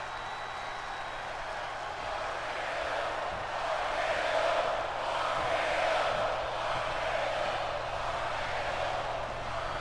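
Wrestling arena crowd in WWE 2K25 chanting RKO before an Orton versus Punk match, a broad roaring chant that swells and ebbs steadily across the stretch with no talk over it.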